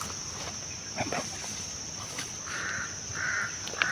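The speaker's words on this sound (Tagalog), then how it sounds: "Alerto yung uwak." Crow caws sound out in a video game, several harsh calls in quick succession, fairly close and clear over a steady high-pitched background tone.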